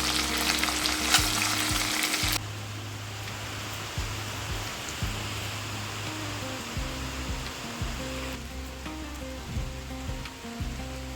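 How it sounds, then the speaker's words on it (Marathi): Light rain falls outside in a continuous soft hiss, loud and dense for the first couple of seconds and then quieter, with low rumbling hums running underneath. "मस्त बारीक पाऊस चालू आहे आमच्या इकडं"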